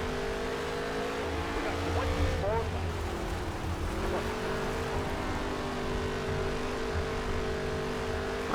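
Stock car engine racing in NASCAR Heat 3 career mode, a loud sustained droning roar that dips and recovers in pitch through corners, with constant road and tire noise.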